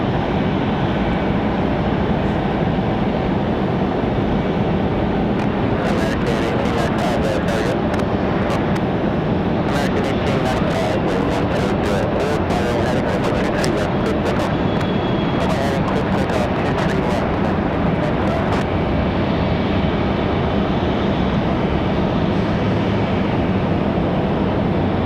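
A business jet at Raleigh Durham International Airport gives a steady, distant engine roar throughout, with occasional crackling bursts over it.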